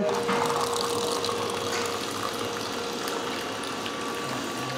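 A battery-operated sugarcane juicer runs as juice pours into a glass, a continuous close motor and liquid rush at steady loudness with no voices.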